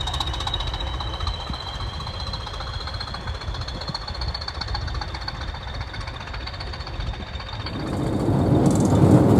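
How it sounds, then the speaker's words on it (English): A diesel locomotive of the type nicknamed choppers labours under power on an excursion train, a steady rhythmic engine throb with faint wheel noise and a high whine, swelling louder near the end. "They were nicknamed choppers by enthusiasts due to the distinctive beat they produce when under power."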